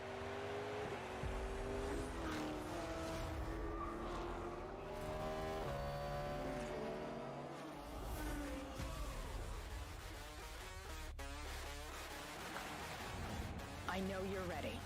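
Racing cars roar through a video game trailer featuring the Cadillac V-Series.R and the Corvette E-Ray. Loud engines rev and shift up and down, tires squeal, and cars pass close by, with music mixed in.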